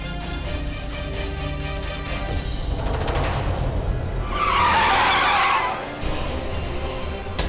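A car skids with failed brakes in a dramatic scene, a long tire squeal rising to a loud, harsh screech before easing off, over a steady rumbling and musical background.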